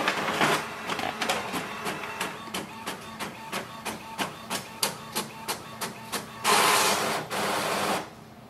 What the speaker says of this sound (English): Now click on the print test page.